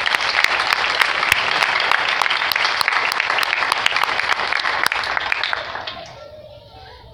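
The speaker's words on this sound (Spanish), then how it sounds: "démosle más fuerte palmas a nuestro hermano" A church congregation in a parish gives dense, loud applause with sharp individual claps, sustained for about six seconds before it tapers off.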